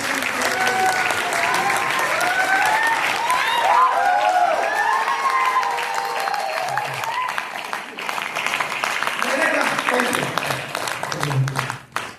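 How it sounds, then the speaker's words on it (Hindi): Loud, sustained audience applause rolls through a DXN gathering in Amritsar, with a voice speaking over the clapping throughout. "एक जोरदार ताली बजाइए।"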